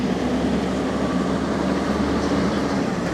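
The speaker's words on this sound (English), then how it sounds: "A lot of cars, a lot of buses heading up and over the" Busy rush-hour road traffic with cars and buses in China, near a bridge over the river toward Gaoyao: a loud, steady, continuous roar of engines and tyres with no breaks.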